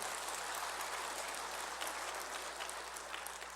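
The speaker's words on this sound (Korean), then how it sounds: "박수를 치실 거면 다 같이 치십시오." A church congregation claps together during a sermon, a steady, fairly faint patter of many hands that continues evenly without any talk.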